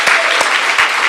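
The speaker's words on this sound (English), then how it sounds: "Can we give her a hand of applause?" Applause from an audience at a live magazine launch event, a dense steady patter of clapping throughout with a few sharper claps standing out, close and fairly loud.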